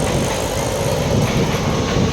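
A train rumbles past nearby with a steady, heavy roll and faint rhythmic clatter, loud and continuous.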